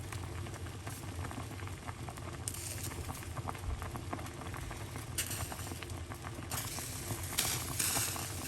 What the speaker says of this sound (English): That's boiling up properly